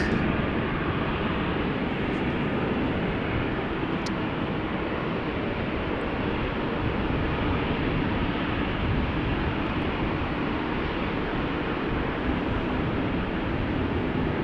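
An Embraer 190 jet departs Schiphol for Nantes, giving a steady, fairly loud broadband jet roar that holds evenly throughout without voices.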